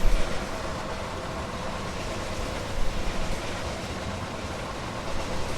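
A very long freight train loaded with coal rolls along in Train Sim World 2020, a steady broad rumble of wheels and wagons with faint rhythmic clatter, continuous and fairly loud throughout.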